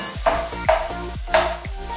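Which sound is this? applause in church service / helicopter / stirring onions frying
stirring onions frying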